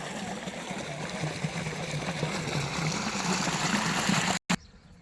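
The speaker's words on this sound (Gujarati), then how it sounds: "આ ઘઉંમાં પાણી આપણે ચાલુ કરી દીધું છે." Irrigation water pours into a wheat field on a farm, a steady close rushing hiss that runs evenly and then cuts off abruptly near the end.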